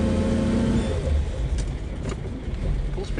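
A 1948 Chevy Fleetline Aerosedan with its original engine accelerates, a loud steady low engine rumble with some rise, heard from close by, with faint chirps in the background.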